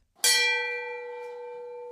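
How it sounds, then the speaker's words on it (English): A single bell strikes once and rings out with a long, clear sustained tone that slowly fades, tolled statewide to mark the 100th anniversary of the WWI armistice. "The tolling of a bell has special meaning."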